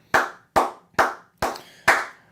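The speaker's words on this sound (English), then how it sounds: "We got to clap it up for that." Five loud, crisp hand claps close to the mic, spaced about half a second apart at an even pace, with no voices.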